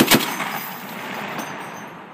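A HMMWV-mounted .50 caliber machine gun fires a single sharp, loud report near the start, then a long reverberant decay of echo and rumble with no speech.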